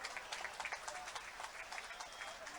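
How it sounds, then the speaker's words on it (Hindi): An audience at a political rally in Mahagama, Jharkhand bursts into dense, continuous applause to welcome a chief guest, many hands clapping at once in a steady crackling wash, fairly faint and distant. "तालियों से एक बार जोरदार स्वागत हो इस महागामा की धरती पर उनका।"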